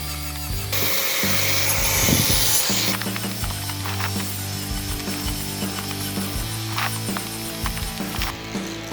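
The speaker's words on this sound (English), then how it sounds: "Then the next step is to clean the edges using the angle grinder with sand fan disc." An angle grinder fitted with a sanding flap disc cleans the edges of bamboo tubes, giving a loud continuous high whine with a constant motor hum and rough grinding bursts as the disc bites, heard alone.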